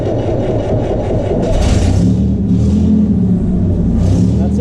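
A 1929 Blower Bentley's engine catches on the starter and runs, a loud, close, rough low rumble that swells as the throttle is blipped, then settles into a steady throbbing idle.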